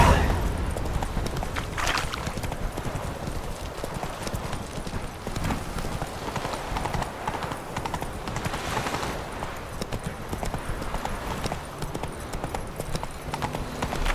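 Roach, the horse in The Witcher 3: Wild Hunt, gallops at speed, its hooves drumming a fast, steady clip-clop rhythm close by for the whole stretch, mixed with dense game ambience and faint rumbling effects.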